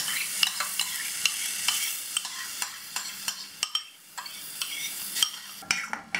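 Curd added to sautéed onion masala for a broken-egg kulambu, stirred in a hot pan: a soft sizzle under repeated sharp scrapes and clicks of a spatula against the metal, close and rhythmic.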